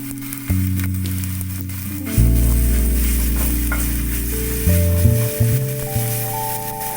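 Garlic paste sizzles and spits in hot oil over softened, translucent fried onions in a pan, a steady close frying hiss with stirring thumps and a few sharp bursts as the paste hits, no voices.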